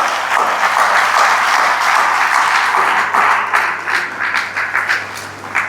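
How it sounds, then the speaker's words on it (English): Audience applause at a parents conference, a dense, steady clapping from a large indoor crowd that thins into scattered louder claps toward the end. "Please clap for yourselves."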